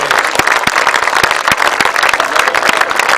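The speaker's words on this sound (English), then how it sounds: "a big round of applause for Edward Kelly" Loud crowd applause at a British Masters grasstrack racing event, with a few sharper individual claps standing out over the continuous clatter.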